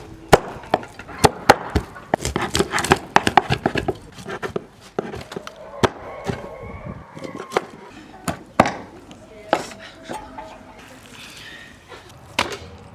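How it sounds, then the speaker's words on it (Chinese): A cleaver hacks a whole large blue carp on a kitchen board, a quick run of sharp, loud chops that thins into scattered single whacks with pauses, close and without talk. "鱼改一下刀，整条剁"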